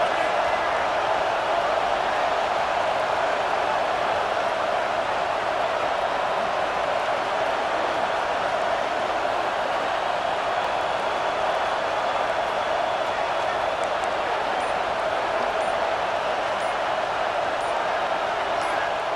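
A packed stadium crowd at a Michigan football game roars during a timeout, a loud, unbroken wall of cheering that stays level for the whole stretch.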